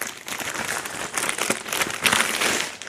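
Plastic bag from doll packaging crinkles and rustles continuously at close range, dense and irregular with a brief louder crunch near the end, no voices.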